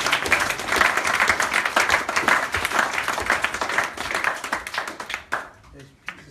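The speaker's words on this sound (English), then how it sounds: "Round of applause for everybody." An audience at a Penny Appeal visit by Dr. Hany El Banna gives a round of applause, close, lively clapping from a modest group that thins out and stops near the end, leaving a few last claps.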